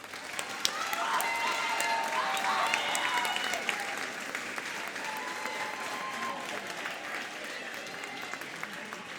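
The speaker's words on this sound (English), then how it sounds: "we give this group a round of applause" A middle school concert audience gives a choir a long, full round of applause, with even, dense clapping throughout and a few cheers and voices mixed in.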